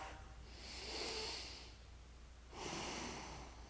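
Two slow, deep breaths taken during a seated yoga hip stretch, each a long soft airy inhale or exhale, close and quiet.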